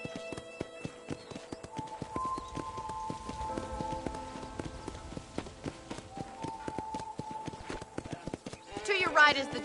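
Horse hooves clip-clop in a steady, quick rhythm in the Western video game Red Dead Redemption, moderately close, with game music tones and someone speaking over them.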